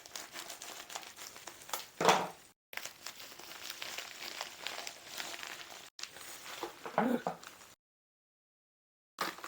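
A paperback book package being cut open along its side, crinkly plastic or paper wrapping crackling and tearing close by in short bursts with brief pauses, fairly quiet and with no talking.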